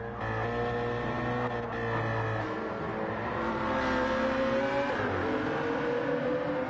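Engine of a BMW Z4 in the Gran Turismo racing game, a steady loud tonal drone with harmonic whine that shifts pitch midway as revs change, no talk over it.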